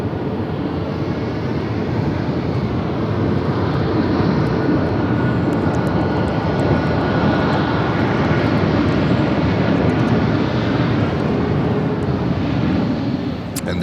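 An Airbus A321neo jet arriving at Charlotte airport gives a loud, steady broadband roar that holds for the whole stretch, with a bit of wind noise.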